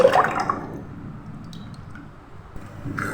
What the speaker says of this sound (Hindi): फिर से टमाटर केचप के मिक्स को डालेंगे इसके अंदर